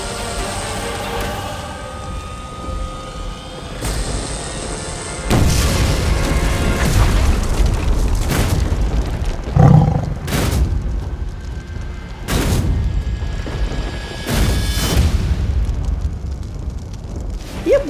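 Loud booming bursts of a fireworks explosion effect in a Hindi fantasy TV episode, with several sharp cracks and rumbling blasts repeating over about eighteen seconds against a dense noisy background.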